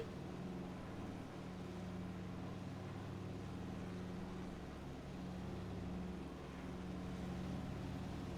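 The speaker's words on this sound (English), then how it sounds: "I like the sound of the plane." The piston engines of a Douglas DC-3 in Microsoft Flight Simulator 2024 drone on in a steady, unbroken hum with a low, throbbing hum and a constant cabin rumble.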